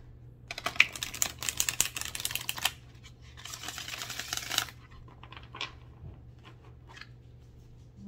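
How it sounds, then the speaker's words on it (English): Two quick bursts of crisp, fluttering clicks, like a deck of playing cards riffled and shuffled close by, with a quieter pause between them. "let's just shuffle the cards three times."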